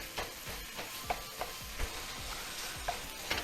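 Chicken sizzles steadily in a hot pan, with a series of soft clinks and scrapes as it is stirred.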